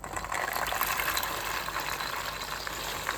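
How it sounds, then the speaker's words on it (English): Dry beans from a 15-bean mix are poured into a soup pot, giving a steady, fairly quiet rattling patter that lasts about three seconds. "I'm going to go ahead and add in my beans now."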